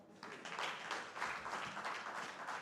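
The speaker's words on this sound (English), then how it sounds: "you can see from the resounding applause that you did excellently well" Audience applause at a project launch event: a short, quiet burst of scattered clapping that swells and holds for a couple of seconds.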